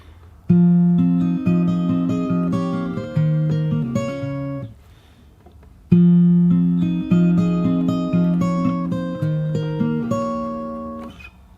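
Fingerstyle acoustic guitar plays a bar of a song in two clear, evenly plucked phrases with a short pause between them, notes ringing over a steady rhythmic pattern.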